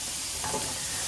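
Vegetables for egg fried rice are stirred in a hot frying pan, giving a loud, continuous sizzle with soft scraping of the spatula close by.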